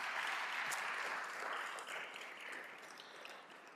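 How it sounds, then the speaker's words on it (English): An audience applauds Dr. Belldegrun at a medical entrepreneurship visiting professorship event, a soft, even wash of clapping that slowly thins toward the end. "So please, a round of applause for Dr."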